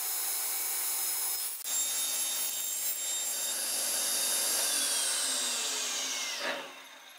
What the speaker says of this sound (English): I can take the pin board across to the table saw and cut it down to size